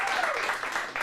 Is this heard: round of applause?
yes